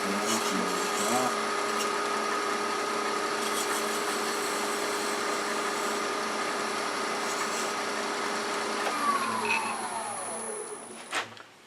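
A woodturning lathe whines steadily with a sustained tonal hum while a tool cuts small decorative V-grooves into spinning wood, the motor winding down near the end.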